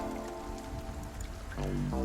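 Steady rain falls in a scene from the visual novel If My Heart Had Wings, a dense even patter of raindrops on surfaces that grows slightly louder toward the end, with a faint music note entering.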